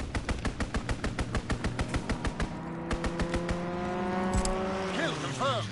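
A WW2 fighter plane strafes a target in a video game: a fast, even run of loud machine-gun shots gives way to a droning engine that rises and bends in pitch as it passes.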